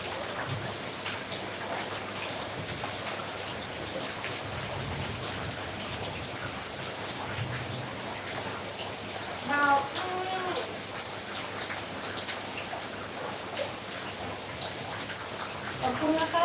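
Heavy rain pouring down in Lampang, Thailand, a dense continuous patter of drops on surfaces, with a few louder splashes and knocks standing out.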